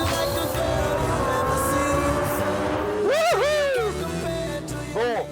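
A Ferrari 458 Italia and F430 accelerate over 300 metres from a rolling start, engines rising in pitch through gear changes, with sharp revving sweeps from about three seconds onward over a steady background drone.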